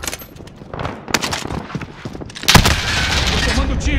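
Rapid bursts of Call of Duty: Warzone gunfire crackle over a busy battle mix, with voices talking in between, then a louder dense stretch of shots and noise near the end.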